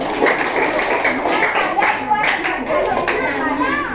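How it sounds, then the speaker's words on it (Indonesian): A classroom group of children claps for group 5, loud uneven hand clapping mixed with young voices and chatter throughout. "Kasih tepuk tangan buat kelompok 5 dulu"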